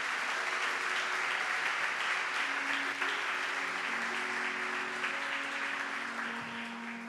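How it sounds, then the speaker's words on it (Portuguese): An audience claps for the musicians after worship, continuous dense applause that holds steady for several seconds and fades slightly toward the end. "Vamos dar uma salva de palmas para esses músicos"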